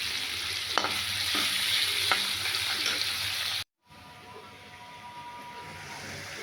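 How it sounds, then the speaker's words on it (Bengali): Tomato and ginger fry in hot oil in a pan as they are stirred, giving a steady sizzle with scraping strokes. A brief silent gap falls midway, and the frying continues more quietly afterward. "টমেটো দিয়ে দিয়েছি টমেটো তেল নাড়ছি ওটা তার সাথে একটু আদা দিয়েছি হালকা করে আদা দিয়ে নাড়ছি ভালো করে"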